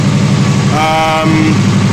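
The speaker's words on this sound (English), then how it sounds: "I do notice a bit of a deeper rumble in the exhaust note and the tone" A Subaru WRX engine idles steadily after a spark plug change, its exhaust giving a deeper, low rumble that stays close and continuous throughout.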